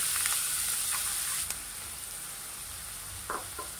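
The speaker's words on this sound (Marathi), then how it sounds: "आता बारीक चिरलेला 2 कांदे बारीक चिरलेले आहेत" Two finely chopped onions fry in half a ladle of oil, giving a steady, even sizzle and hiss throughout, with a few faint clinks from a spoon or pan.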